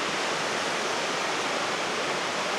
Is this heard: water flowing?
yes